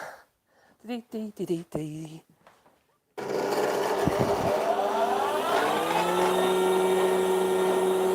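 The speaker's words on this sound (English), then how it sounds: "sharpening the plain irons. Some people call them blades, but they're actually called plain iron on this machine. So let's run that." A woodworking machine sharpening plane irons starts up after someone speaks, then runs with a loud, steady whine and a rising tone that settles into a sustained hum.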